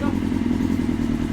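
A 1996 Suzuki GSX-R 750 SRAD track bike engine runs at a steady idle, a loud, dense, even mechanical drone close by.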